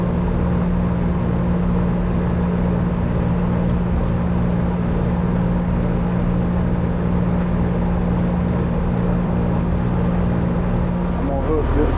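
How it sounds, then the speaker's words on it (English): An HVAC unit motor runs steadily under test, a constant low hum with a strong tonal drone that stays even for twelve seconds, with a brief shift near the end. "we're going to test the motor"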